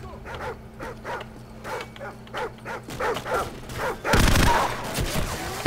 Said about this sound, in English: Bad dogs!